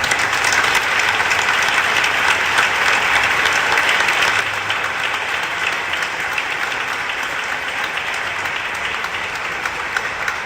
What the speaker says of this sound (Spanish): te damos otro aplauso